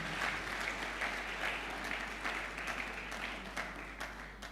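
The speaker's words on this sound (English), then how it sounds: "Let's give another round of applause." Sustained applause from an audience at a foundation's 20th anniversary event, dense steady clapping throughout at a fairly distant, moderate level.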